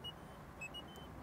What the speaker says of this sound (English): this sound is so annoying when you open the door and the key is still in lock